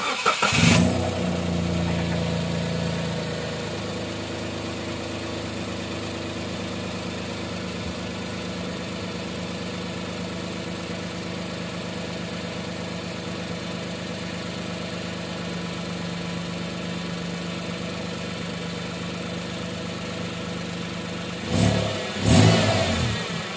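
Daihatsu Ayla 1.0 engine fitted with a bored-out racing exhaust manifold and downpipe, idling with a steady low drone and brief sharp revs at the start and near the end, loud and close.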